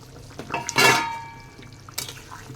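Eel pieces slid into a pot of curry with potatoes: a sharp clatter and splash, then a second, softer knock a second later, close and without talk.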